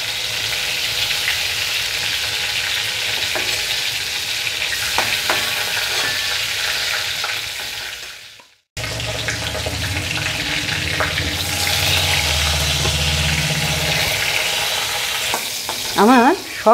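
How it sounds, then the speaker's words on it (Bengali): Pointed gourd (potol) fries in oil in a pan, giving a continuous close sizzle with stirring scrapes and light clinks, broken once by a brief silence before the frying resumes. "আমার সব পটল ভাজা হয়ে গেছে"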